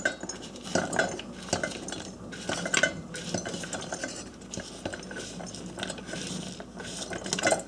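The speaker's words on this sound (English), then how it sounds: "Next step is to put these into clean jars." Banana peppers being packed into clean pint jars, with close clinks of glass and utensils and soft scraping and rustling in an irregular rhythm, all fairly quiet, with no speech.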